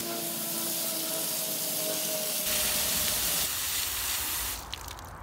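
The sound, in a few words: water spray hosing dirt and clay on a screen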